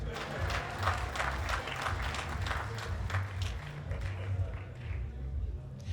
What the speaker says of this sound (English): Una clap for me for that.